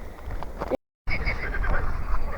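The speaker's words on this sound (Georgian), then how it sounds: "მაგრამ არიან ბაყაყები" Frogs croak near a river in a dense, repeated chorus, close and fairly loud, with one short moment of silence in the middle.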